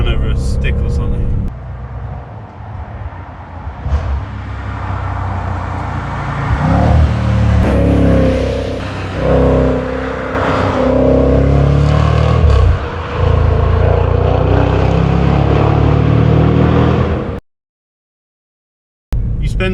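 A 2022 Jaguar F-Pace SVR is driven hard, its engine roaring loud and close through surging full-throttle acceleration in waves, with road and wind noise throughout before cutting to silence at the end.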